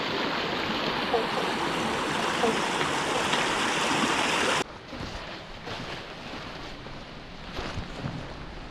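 A large creek runs strongly in flood through bush near Flaggy Creek Falls, Mount Lawson, Victoria, making a steady, loud rushing roar. Partway through, the roar drops suddenly to a softer, more distant flow.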